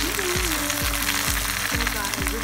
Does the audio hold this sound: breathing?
no